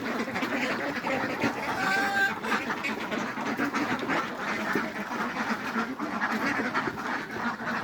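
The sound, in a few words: ducks quacking at duck farm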